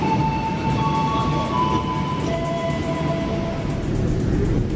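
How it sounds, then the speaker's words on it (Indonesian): Steady rumble and rolling noise inside a KRL commuter train heading to Prambanan station near Yogyakarta, with faint tonal whines drifting above a continuous low roar and no talking. "Nah ini suasana di KRL menuju stasiun Prambanan."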